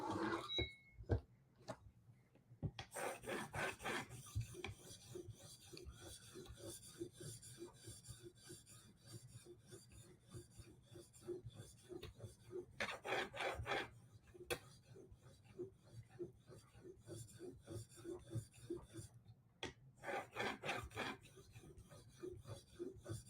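Knife edge drawn across an 800 grit stone on a clamped guided sharpening system, a light cleanup pass: steady soft rasping strokes repeating in bursts, close and fairly quiet, with no talking.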